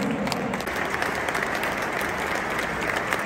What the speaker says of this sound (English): today we invite you to show your appreciation with a period of applause